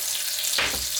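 A slab of butter hits a hot pan for a tarka dhal tadka, with a sudden bright sizzle bursting in just past the half-second mark over a steady background hiss.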